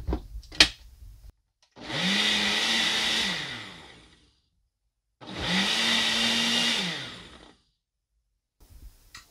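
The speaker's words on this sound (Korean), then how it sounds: "제 새로 산 닌자 블렌더 엄청 좋아요." A Ninja blender whirs through a protein shake in two loud, close bursts of about three seconds each, with quiet pauses before, between and after.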